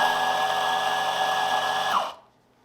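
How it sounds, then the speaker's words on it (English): A coffee grinder with its cooling fan running at an espresso setup, a steady close whine and rush that winds down to near silence in its final half-second. "That's fan coming in on the grinder to keep our grind temperature the same."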